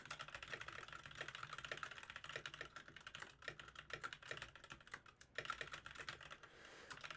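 Fast, steady keystrokes on a computer keyboard as a quick message is typed, close and fairly quiet, with short pauses between bursts.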